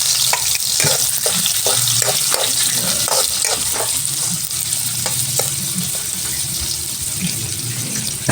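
Chopped onion and garlic sauté in oil for squid adobo, giving a steady close sizzle with repeated crackles and the scrape of a spatula stirring the pan.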